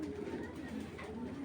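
Big-bodied racing pigeons of a Netherlands bloodline, ARPCD club 2022 birds, give low, soft cooing that runs steadily through a short, fairly quiet stretch without talk.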